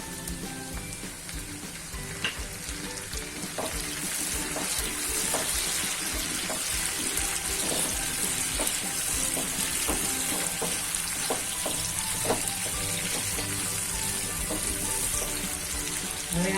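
Tomato added to a pan with lightly browned onions for a bottle gourd curry, giving a steady, close sizzle and crackle of frying, with faint scraping of stirring and no talk.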